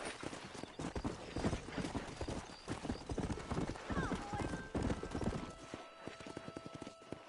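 Horse hooves clip-clop at a steady galloping rhythm in Red Dead Redemption, close and continuous, with a whinny and voices talking over the ride.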